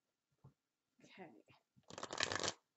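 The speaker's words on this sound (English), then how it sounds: "I'm going to shuffle the Oracle deck." An Oracle card deck is shuffled up close: a few soft taps and riffles, then a dense burst of rapid card shuffling, fairly quiet overall.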